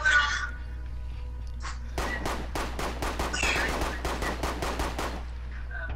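Gunfire in a zombie video game: a rapid run of about a dozen evenly spaced shots, close and fairly loud, over a steady low background hum.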